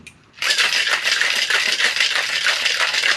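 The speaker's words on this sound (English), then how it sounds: "Let's take some ice in a shaker glass" Ice cubes are shaken hard in a cocktail shaker, a loud continuous rattling clatter that begins suddenly after a brief pause and keeps a steady pulsing rhythm throughout.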